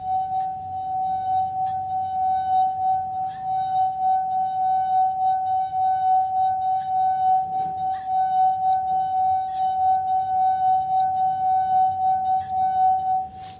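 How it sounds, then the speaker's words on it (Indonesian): A wet finger rubs around the rim of a drinking glass three-quarters filled with water, drawing out one steady, pure singing tone that holds unbroken with faint squeaks from the rubbing, and no voices. "Itu adalah bunyi yang dihasilkan oleh gelas pertama yang sudah diisi 3/4 air."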